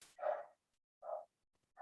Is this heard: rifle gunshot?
no